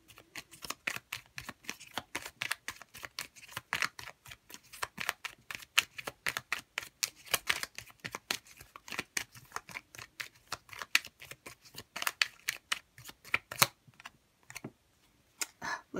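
Oracle cards are shuffled in rapid, dense riffling bursts of crisp papery flicks, close and fairly quiet, running steadily with brief pauses.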